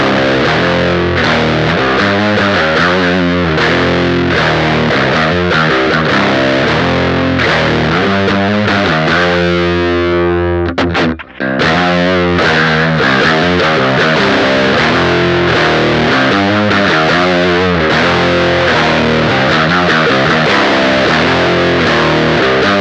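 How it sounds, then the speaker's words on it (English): Electric guitar riff played through a Totally Wycked Audio Chemical Z dual overdrive pedal, loud and continuous with thick distortion, a brief dropout midway as the channel switches, then the riff resumes. "we're gonna play a riff on the green channel and then switch it over to the red channel without turning any knobs"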